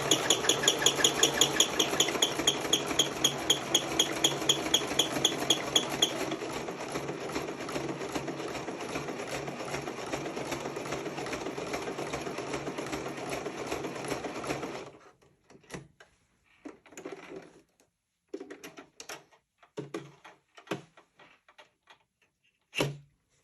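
A sewing machine stitches along a garment seam in one loud, steady run of fast repetitive mechanical clatter that stops abruptly partway through, followed by a few faint scattered handling clicks and rustles.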